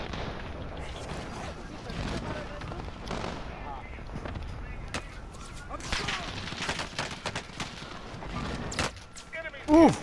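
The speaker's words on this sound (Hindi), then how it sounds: "मेरे पे गोलियां आ रही है" Call of Duty Warzone gunfire on Rebirth Island: dense, rapid shots and bursts crackle nearly nonstop, some sharp and close and others more distant, with a loud thump near the end.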